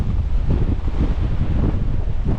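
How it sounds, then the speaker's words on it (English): Strong wind gusts of Storm Eowyn buffet a hillside at close range, a loud, continuous low-frequency roar of wind hitting the microphone with surging, uneven pulses throughout and no voices. "We've just had a gust of 52 miles an hour"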